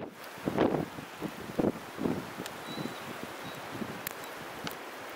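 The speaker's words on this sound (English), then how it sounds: "the winds can get a bit gusty" Gusty wind outdoors during a nor'easter, buffeting the microphone in several uneven bursts with rustling in between, fairly close and moderately loud, no talking.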